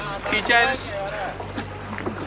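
Boat engines hum on a lake in Kashmir beneath constant chatter and calls from people nearby, with a low steady motor drone throughout.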